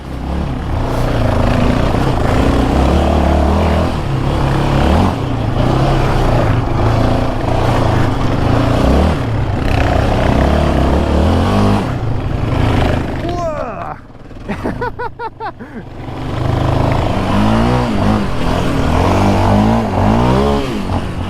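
A stock 2022 Yamaha Raptor sport ATV ripping along an off-road trail, its engine roaring loud and close with rising and falling revs and one brief dip in throttle, while a rider's voice cuts in at moments.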